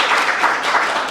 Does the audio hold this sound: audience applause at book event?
yes